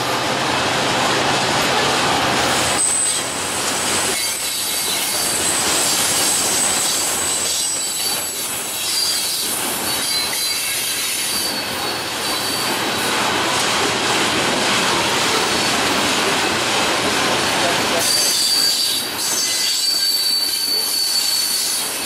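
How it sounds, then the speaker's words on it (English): A heavy Norfolk Southern coal train hauled by five locomotives rolls steadily past nearby, with loud continuous rail rumble, rattling coal cars and high-pitched wheel squeal running through the whole stretch, with no talk. "Jeez, must be a heavy train just to haul all those coal cars"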